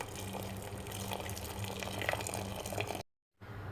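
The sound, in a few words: pouring hot water into harees soup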